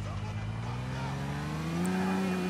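A car engine in GTA 4 revs and climbs steadily in pitch, loud and continuous, like a vehicle accelerating away.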